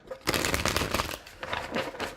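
Tarot cards are shuffled close up, a dense papery riffling and flicking that runs continuously for a couple of seconds.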